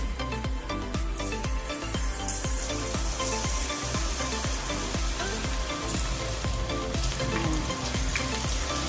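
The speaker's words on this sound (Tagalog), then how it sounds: "painitin lang natin ang ating cooking oil and then, pwede na tayong mag-fry" Corn fritters frying in hot canola oil, a loud, continuous close sizzle with crackling pops, without talk.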